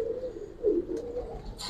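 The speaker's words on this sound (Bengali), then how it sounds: "দুইটাই বুদ্ধিমতী কবুতর।" A Giribaz pigeon at a loft gives soft, close low coos, rising and falling in a short phrase, with faint handling noise near the end.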